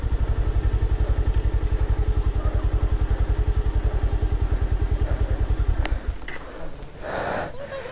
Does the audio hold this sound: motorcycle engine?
yes